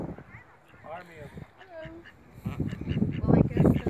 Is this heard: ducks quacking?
yes